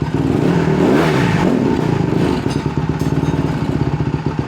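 A Honda CRF150R dirt bike engine idles loudly and steadily after a carburetor rebuild, its thumping exhaust pulses settling into an even, rapid rhythm close to the microphone.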